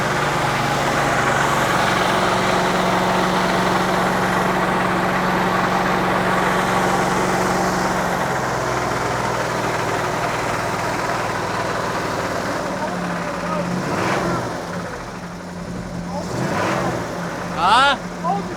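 Chevy 350 V8 idling nearby with a steady low rumble and a faint rattle, a few blips of revving toward the end, as people talk over the engine.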